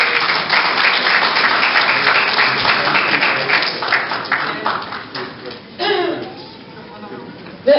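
Audience applause at a Dersim cultural evening in Strasbourg, France, 2019, as a presenter is invited on stage: steady dense clapping that thins out toward the end, with a burst of cheering near the close.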